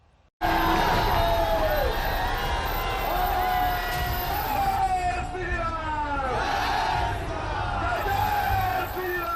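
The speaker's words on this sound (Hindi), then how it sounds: "योगी का हेलीकॉप्टर जमीन पर उतरा तो भीड़ जय श्री राम के नारे लगा रही थी।" A large crowd at Yogi's election rally in Bihar, India, loudly chants Jai Shri Ram slogans as his helicopter lands. Massed voices rise and fall in a continuous, dense roar.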